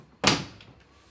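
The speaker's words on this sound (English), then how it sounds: "So when you lock the door, this is how it works." A front-loading washing machine door latch snaps shut with a single sharp mechanical clunk that quickly fades, heard close up with no talking.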